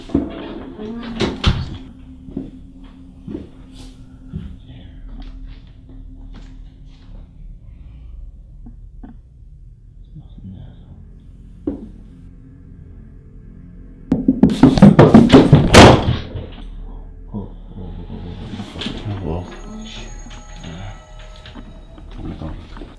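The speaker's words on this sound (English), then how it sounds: "The sound of the closed footsteps along with the door closing right next to him is bound to keep anyone up at night." Inside a house, faint scattered knocks and thuds like footsteps come at an uneven pace, then a loud, sharp door slam bangs close by, followed by quieter clunks and rattles.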